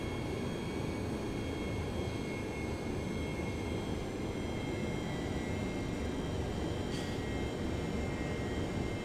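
Steady, loud jet engine roar of an F/A-18 aircraft in the IL-2 1946 flight game, a constant broadband rush with a brief faint whistle near the end.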